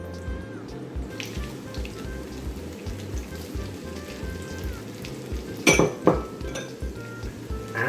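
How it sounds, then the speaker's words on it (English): Potatoes fry in a frying pan with a steady close sizzle, broken by a brief clink of a utensil against the pan partway through; no one speaks. "And now back into that frying pan go the potatoes."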